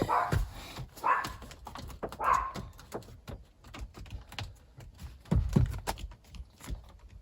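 A small Chihuahua barking indoors in short sharp yaps and whimpers, several bursts spread across the stretch, mixed with clicking and tapping sounds nearby, moderately loud.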